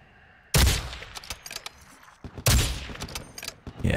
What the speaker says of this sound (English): Yeah, I'm shooting at you, all right.